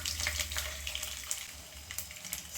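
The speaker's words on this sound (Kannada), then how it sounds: "ಇವಾಗ ಎಣ್ಣೆ ಕಾದಿದೆ, ಸ್ವಲ್ಪ ಸಾಸಿವೆ ಹಾಕೋತಾ ಇದ್ದೀನಿ." Mustard seeds sputtering in hot oil: a close, busy crackle of small pops and spits over a watery hiss, uneven and continuous throughout.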